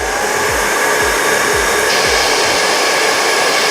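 A hair dryer blows low, warm air to dry wig adhesive, a loud, continuous close-up whoosh with a soft, regular thumping underneath, no talk.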